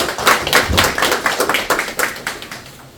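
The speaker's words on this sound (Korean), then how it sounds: "큰 박수 부탁드리겠습니다." An audience at a National Assembly forum on garbage truck safety standards applauds a presenter, fairly close, with distinct rhythmic claps that thin out and fade toward the end.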